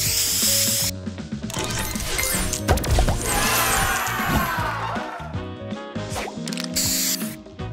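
The booster spray effect in the Match Masters puzzle game, a loud hissing spray burst mixed with crashing, clattering and chiming game sounds and a musical backing.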